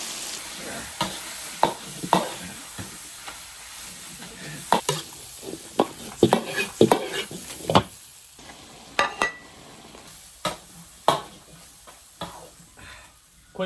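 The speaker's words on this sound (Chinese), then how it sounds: "鸡蛋下锅" Eggs frying and being stirred in an iron wok while chili and pork cook, with repeated sharp scraping strokes of the spatula over a soft steady sizzle, close up and without talk.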